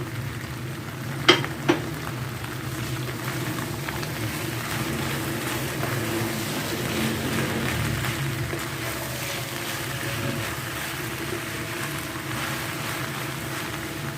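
Cumin, fennel and nigella seeds sizzle in hot oil over a medium-high flame for an okra sabzi, a steady close frying hiss with a couple of sharp pops near the start and no talk.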